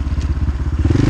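Dirt bike engine labouring while climbing a sand hill on a trail, a steady low pulsing drone, close and loud throughout the short burst.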